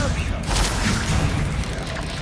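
Expelliarmus spell cast in the Hogwarts Legacy video game, a loud burst of booming, crackling magical impact sounds packed into about two seconds, with dense noisy energy.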